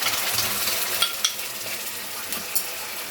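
Spice paste goes into onions frying until light red in a pan for methi chicken, giving a steady soft sizzle with a few sharp spoon-on-pan clinks while it is stirred.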